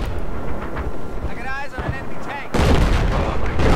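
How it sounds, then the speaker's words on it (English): A cruise missile explodes in Battlefield 4 with a sudden heavy blast that stays loud and rumbling to the end, following a stretch of steady battle noise and someone talking. "Goddamn cruise missile."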